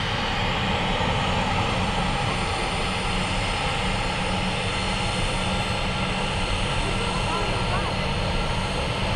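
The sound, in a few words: aircraft taxiing at Manchester Airport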